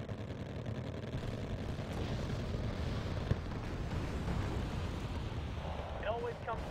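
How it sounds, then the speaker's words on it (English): Artillery fire in the war strategy game Wargame Red Dragon rolls as a steady low rumble of distant booms, with one sharp crack standing out midway and faint talk in the background. "Probably should start using my artillery."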